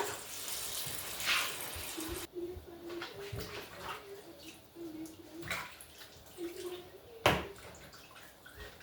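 A tap runs and splashes as salted meat is washed under it, a close, uneven gush with bursts of stronger spray and a few brief clatters.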